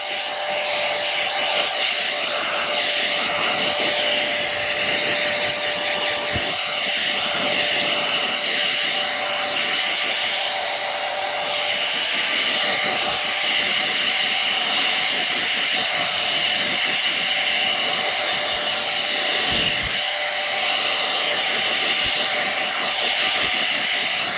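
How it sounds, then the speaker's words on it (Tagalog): A hair dryer blows hair during a hair rebonding treatment: a loud, continuous blowing roar holds steady throughout, running close by with no pauses. "Pag nag-blower kayo, ganito lang din."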